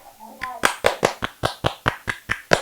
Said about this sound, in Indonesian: Ada tepuk tangannya tuh kalau tepat